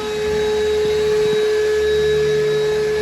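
A vacuum cleaner roars steadily close by as it sucks debris out of the ceiling of a Dodge Dart under restoration, a constant high whine with a few faint knocks and rattles from the nozzle, no talking.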